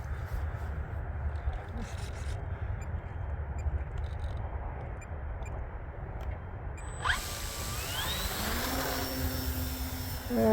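A Dynam Pitts 12 Python RC model airplane's electric motor spins up into a rising whine near the end, taking off after a long stretch of wind and ground noise.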